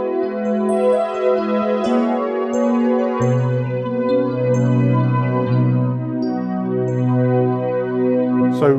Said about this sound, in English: So kind of electric pianos, bells, sometimes spiky basses